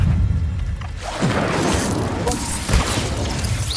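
Incendio fire spell cast in the video game Hogwarts Legacy, a sudden whooshing burst of flame that swells and roars with crackling, rumbling debris, followed by a second sharp impact near the end, loud and close with no talk.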